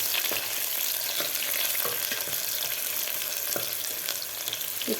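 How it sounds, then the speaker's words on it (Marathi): Vertically sliced onion fries in oil in a pan for Khandeshi black-masala khichdi, giving a steady close sizzle broken by occasional clicks and scrapes of stirring, with no voices. "कांदा आपल्याला एक दोन मिनटासाठी व्यवस्थित फ्राय करून घ्यायचा आहे"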